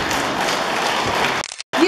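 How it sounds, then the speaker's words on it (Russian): Audience applause at an awards ceremony for the finalists of the Kilenkay contest, a steady dense burst of clapping that runs loud for over a second, then cuts out briefly before resuming. "Я думаю, что заслужит аплодисментов."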